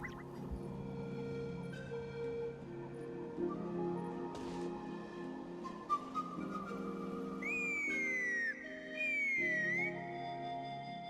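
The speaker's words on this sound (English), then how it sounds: "Whistle." Whistling in Genshin Impact, set in Natlan near a bridge: a few clear, high, sliding whistle notes ring out over faint ambient game sounds, with no talking.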